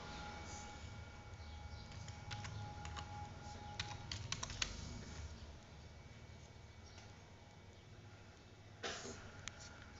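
Keystrokes on a computer keyboard while a username is typed during a Linux install, a scattered run of soft, fairly quiet clicks over a low background hum, with a few louder taps.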